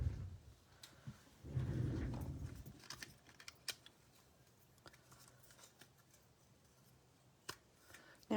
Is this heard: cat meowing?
no